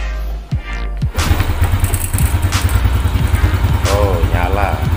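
A Yamaha Jupiter Z1 motorcycle, recharged after a dead battery, starts with a few thumps. Its engine then catches and settles into a steady, close, loud idle with a fast even putter.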